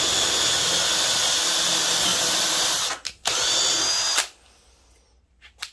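A power drill with a 5.5 mm bit drills straight through pre-made holes, whining loudly and steadily for about three seconds, then a brief second burst before stopping, with faint handling noise after.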